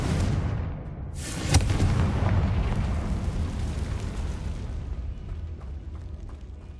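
A Confringo fire spell in Hogwarts Legacy bursts with a loud, close explosive boom about a second and a half in, followed by a dense rumbling roar that slowly fades over several seconds.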